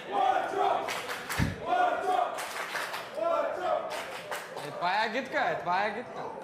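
A poker rail crowd at a main event final table in Barcelona claps rhythmically and chants in unison, repeated bursts of voices and hand claps in a lively room, with a commentator talking over it.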